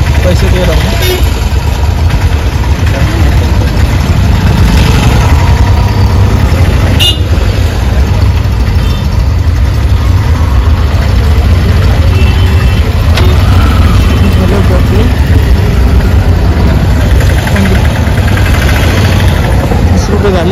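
An auto rickshaw engine idling with a constant, close mid-pitched rumble that holds steady throughout, with a brief knock near the middle and faint talk in the background.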